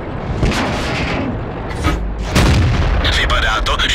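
Tank shell striking armour without penetrating in World of Tanks, a Soviet KV-1 heavy tank on the Sand River desert map, with booming impacts and artillery-like blasts amid battle noise and radio chatter.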